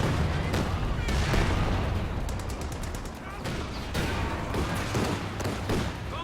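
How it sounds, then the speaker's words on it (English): Katyusha rocket barrage in a Company of Heroes 2 2v2 match, a dense stream of sharp whooshing launches and blasts stacked over steady battle rumble, loud and relentless. "so it's some Katyusha rockets"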